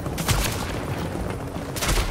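Enemy AI gunfire in The Division's Dark Zone, with two short bursts of shots at the start and near the end and a steady rumble between, moderately loud and somewhat distant.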